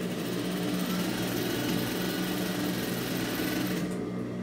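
A sewing machine stitching the seam of a fabric microwave towel, a loud, steady, rapid motor whir and needle chatter running nonstop up close, easing off right at the end.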